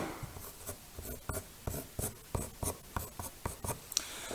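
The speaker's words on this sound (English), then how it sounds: "I can draw in the curve there." Pencil drawing a curve along a template for a trophy project, a close, quiet series of short scratchy strokes in an irregular rhythm, with no talk.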